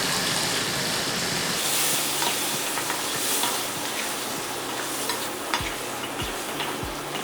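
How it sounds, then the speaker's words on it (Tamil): Onion-based gravy sautés in a pan on the stove, giving a loud, continuous sizzle and hiss with occasional scraping stirs from a spoon, close up and without talk. "இது நல்லா வதங்கிட்டு இருக்கும் போதே நம்ம கொஞ்சம் தண்ணி சேர்த்து இதை நல்லா வேக வச்சிடலாம்."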